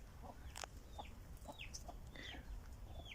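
A chicken at a family summer garden plot clucks in a quick series of short, close calls with a few rising squawks mixed in, faint overall against quiet outdoor background.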